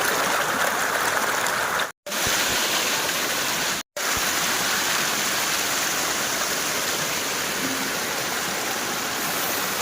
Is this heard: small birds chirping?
no